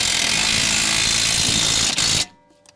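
Impact wrench spinning a 21mm nut onto a shock absorber mount on a Vauxhall Vivaro van, a loud, continuous close whirring rattle with a brief dip before cutting off abruptly, leaving near silence.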